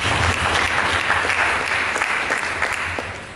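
A church congregation claps during an Indonesian sermon, a dense sustained wash of applause from many hands that holds steady and tapers slightly at the end, with no talk over it.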